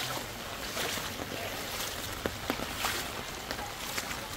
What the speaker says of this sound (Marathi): आता थोड्याच टायमामध्ये इकडनं फुल पाणी इकडचा तिकडे होणार आहे